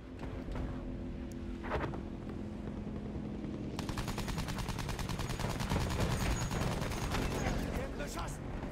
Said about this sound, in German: Oh, da ist wieder die Kanone.